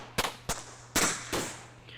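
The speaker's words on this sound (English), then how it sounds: "We all look into the pitch black until we hear a rifle fire." Four sharp rifle-like cracks sound one after another at close range in a war story, each followed by a short decaying echo, with a faint steady hum underneath.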